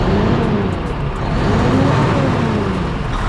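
A Scania heavy truck, from a lineup including the 660 B8, 660S XT and 770 models, sits with its big engine running as a steady, loud broadband rumble with slowly shifting low tones and no talk.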